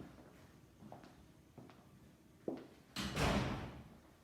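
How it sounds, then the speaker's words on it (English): A kitchen door being closed: a few faint knocks and shuffles, then a louder sliding, rushing sweep of the door near the end, close by and without speech. "Let's close this door."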